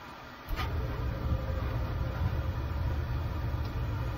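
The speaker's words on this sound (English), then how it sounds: "Sorry, my boiler's running." A home boiler runs with a steady low rumble and hum that starts abruptly and then holds an even, close drone with no talk over it.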